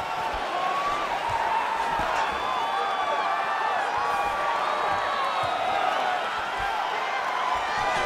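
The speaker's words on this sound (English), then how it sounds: "Crowd going nuts." Boxing arena crowd roaring and cheering continuously through the final seconds of round 4, a dense wall of whoops and shouts with scattered clapping, loud and sustained throughout.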